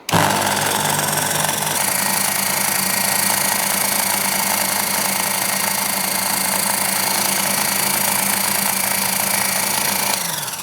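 A machine drill whirs loudly and steadily for about ten seconds while spot drilling a part for a small model engine, starting abruptly and cutting off near the end, with a constant mechanical hum.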